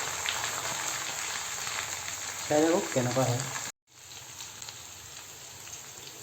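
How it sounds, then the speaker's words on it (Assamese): Eggplant sizzles with pork in a pan, making a moderate, steady frying hiss with a brief dropout partway through. A person speaks briefly over the sizzle. "বেঙেনা দিয়াৰ পিছত আমি ভাজিম"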